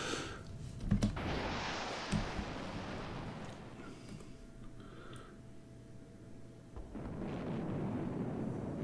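Deep rumbling explosions from a missile barrage in the video game Highfleet, a sustained roar with a couple of sharper impacts near the start and a swelling blast toward the end.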